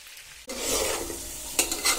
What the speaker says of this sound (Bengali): আমার কচু রান্নার আমরা, কাঁচা আমরা, শুটকি মাছ, টমেটো, পেঁয়াজ, রসুন, শুকনো মশলা সব কিছু একটু তেলে ভেজে নিলাম।